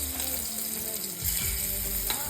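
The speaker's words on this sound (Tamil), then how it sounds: "இறை வந்து மேக்னேட் பண்ணி வச்சுருக்கேன். பொரிச்சிடலாம் வாங்க. எண்ணெய் வந்து காஞ்சிடுச்சு." Marinated prawns sizzle and fry in hot oil in a home kitchen: a steady hiss with occasional scraping stirs and a brief sharp clink near the end, nearby and alone without talk.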